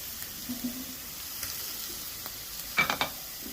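Onions frying in a pan, a soft continuous sizzle with scattered light scrapes and a quick cluster of louder clinks of a utensil near the end.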